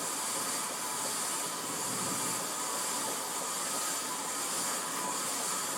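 A c.1994 Casablanca Montclair ceiling fan in black and brass runs at top speed, wobbling heavily, giving a steady, loud broadband whoosh of moving air and bearing noise that holds evenly throughout with no talking.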